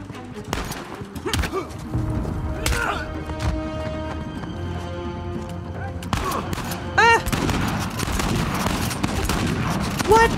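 Shotgun blasts in Uncharted 4 set in Scotland, with several heavy booming shots spread through busy combat noise, plus a person talking over the action.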